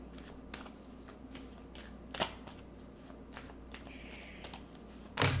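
Tarot cards are shuffled close by in a quiet room, a soft run of crisp flicks and riffles with a few sharper snaps and a louder handling noise at the end.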